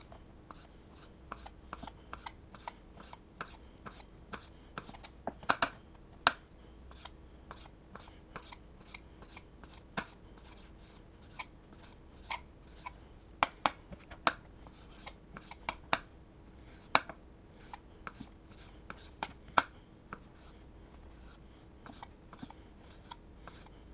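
Knife dicing about a pound of pork butt on a cutting board, a steady run of close, crisp chops at an uneven pace, some strokes louder than others, with no talk.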